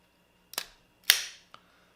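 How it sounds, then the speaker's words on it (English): A Leica M film camera's shutter fires twice with sharp mechanical clacks and a faint click after, close and crisp in a quiet room. "you can see the shutter moving across as I wind it"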